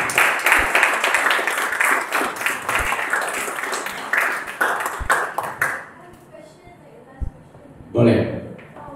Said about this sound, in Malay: So berikan tepukan untuk guru-guru kamu.